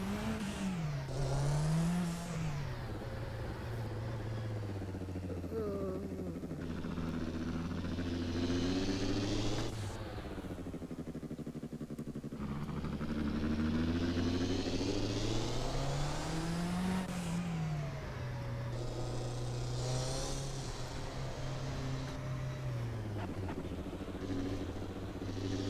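A race-spec Ferrari F40 engine in Assetto Corsa on the Glen Sheil road, droning loud and close through repeated upshifts and rising revs, with pitch sweeping up and dropping back again and again over about 25 seconds.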